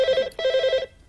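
A telephone rings in two bursts of bright, trilling electronic bell tone, loud and close with a brief gap between them, ending in quiet.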